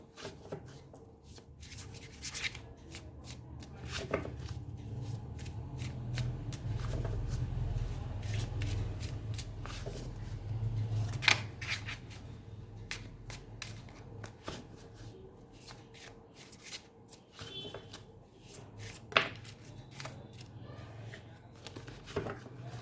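Tarot cards shuffled by hand in a steady run of papery riffles and rubs, close and fairly quiet, with no voices.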